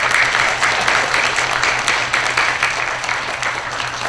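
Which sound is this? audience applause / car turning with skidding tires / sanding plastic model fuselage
audience applause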